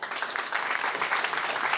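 A short burst of steady applause fills a seminar room at a real estate mastermind gathering, dense and even from start to finish, with no voices rising above it.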